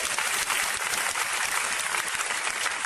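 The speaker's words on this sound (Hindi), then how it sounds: "तो एक जोरदार ताली अपने लिए, खुद के लिए।" An audience claps at a motivational gathering in Ranchi, dense and even applause that holds steady and fairly close for the whole stretch.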